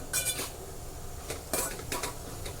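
A spatula clinks and scrapes against a pan while cabbage stir-fry is tossed with chopped coriander. A few sharp metallic taps cut through a steady background noise.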